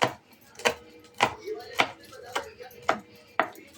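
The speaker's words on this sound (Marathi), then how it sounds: "2 कांदे लांब चिरून घ्यायचे" A knife chops onions lengthwise on a board: six crisp, close chops at a steady, unhurried rhythm with short quiet gaps between them.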